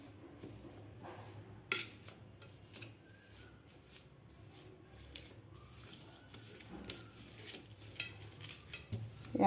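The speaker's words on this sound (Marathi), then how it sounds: "तर आता आपल्याला हे मॅश करून घ्यायचे आहेत बटाटे." Boiled potatoes being mashed for aloo palak paratha, soft irregular squishing and scraping with occasional clinks of a utensil against the bowl, faint and close, no talking.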